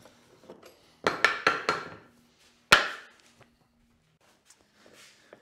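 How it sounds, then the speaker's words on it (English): Chisel cutting a wood joint on a small hand-tool workbench with a vice: a quick burst of four sharp strikes, then a single louder hit a moment later, close and alone with faint handling noises between. "So, on to chiseling."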